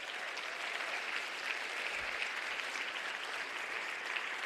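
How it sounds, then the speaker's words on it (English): Audience applause for the performers at a community theatre show, a steady dense wash of many hands clapping together, sustained at an even level throughout with no talk over it. "So I think a big round of applause for all of our"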